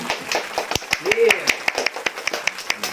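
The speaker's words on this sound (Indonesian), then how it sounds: "Tepuk tangan" An audience at a Sundanese comedy stage show claps for a mock newlywed couple being called up, a run of sharp, separate claps with people talking over them.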